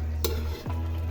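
A spatula stirs chicken and pork in a frying pan for a Filipino chambered-style dish. Scraping strokes sound over a steady sizzle, with a sharp clank near the start and a brief dip in the frying noise midway.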